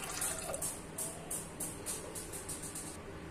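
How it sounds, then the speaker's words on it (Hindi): Water poured from a bowl into a pressure cooker holding chana dal in a home kitchen, a soft, quiet splashing trickle with faint rhythmic clinks across a few seconds. "और इसमें मैं ऐड करूंगी 1 कटोरी पानी।"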